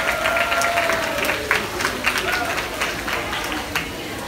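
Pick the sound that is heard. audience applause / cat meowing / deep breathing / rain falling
audience applause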